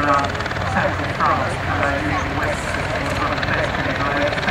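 An Apache helicopter lands at Dunsfold Aerodrome in Surrey, the Top Gear test track, with a steady, loud, dense rotor and engine roar throughout and voices faintly mixed in.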